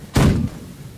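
A single heavy blast from a ship's main gun in the naval game The Last Leviathan, a loud close boom with a short rumbling tail and no talk.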